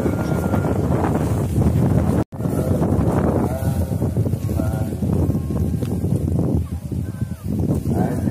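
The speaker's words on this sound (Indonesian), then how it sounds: "Wah, anginnya jos." Strong wind buffets the microphone outdoors in a steady, loud roaring rumble that barely lets up, broken by one brief dropout near the start.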